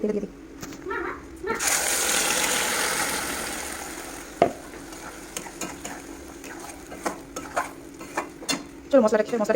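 An onion and poppy seed masala fries and is stirred in a pan, giving a steady sizzle that swells loud midway, with scraping strokes and scattered clinks alongside.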